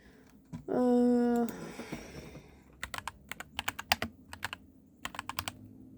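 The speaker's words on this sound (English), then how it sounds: "y'all is about to hear me typing" A short vocal sound, then rapid clattering keystrokes on a computer keyboard in uneven bursts, close and clear.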